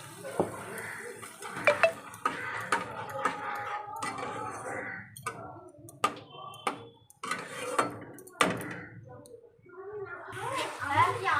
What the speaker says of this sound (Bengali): তো এই যে টকবক করে ফোটা শুরু করে দিয়েছে।